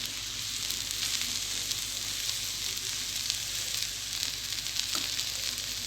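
Onion uthappam fries in oil on a pan over a low simmer, making a soft, even sizzle with faint crackles throughout and no talking.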